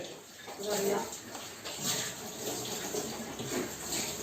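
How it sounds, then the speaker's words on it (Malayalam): Water runs steadily from a household tap, a continuous rushing splash at moderate distance with voices talking over it. "ടാപ്പടയ്ക്ക് വെള്ളം പോകുന്നു."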